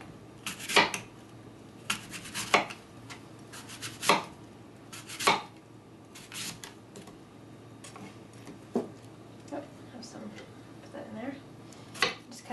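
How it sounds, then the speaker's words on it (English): Knife chopping a green apple, skin on, into small bite-sized pieces on a board: irregular sharp close knocks, sometimes in quick pairs, with quieter scraping between and no talking. "With your green apple, you just want to cut it up into small pieces."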